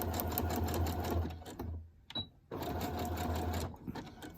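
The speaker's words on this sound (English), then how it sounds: "so you can get it over here to the sewing machine" A sewing machine runs in a fast, steady mechanical rattle, pauses briefly, then resumes stitching at the same rapid pace, close up.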